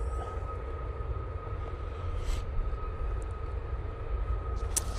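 A Ryanair airliner rolls down the runway on its takeoff run at Manchester Airport, a steady, fairly distant engine roar with a sustained whine, mixed with wind noise and no talking.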